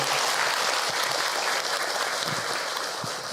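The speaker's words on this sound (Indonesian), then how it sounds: "Tepuk tangan itu buat bunda semua." Women in the audience at an Islamic religious lecture applauding, a dense, even wash of many hands clapping together, sustained and fairly loud with no speech over it.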